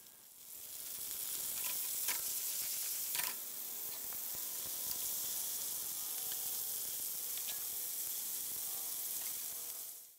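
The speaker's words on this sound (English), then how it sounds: "Then add the green beans and sauté for a couple of minutes." Green beans with shallots and garlic sizzle in olive oil in a pan, a steady, close frying hiss with occasional sharp crackles and brief stirring clicks throughout, no voices.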